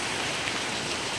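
Heavy rain hisses steadily, a dense, even wash of drops falling on surfaces, with no voices.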